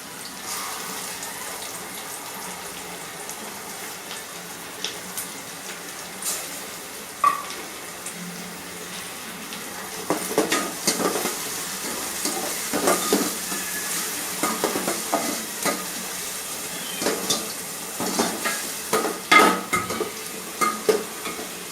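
Ground tomato, fennel, ginger, garlic and onion paste frying and being stirred in a pan for chicken biryani, a steady sizzle with repeated scraping stirs growing busier in the second half.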